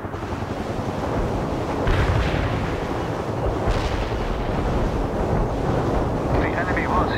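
Artillery barrage in the World in Conflict war game, a steady roar of heavy booms and rumbling blasts swelling and sustained across the scene, with wind-like broadband noise throughout.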